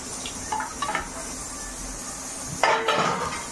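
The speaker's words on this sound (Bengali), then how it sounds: "ঝটাপট করে বাসনগুলো ধুয়ে নিই" Dishes being washed by hand, with light clinks of plates and utensils at close range, a clatter midway and a sharper burst of clanking near the end over a quiet background.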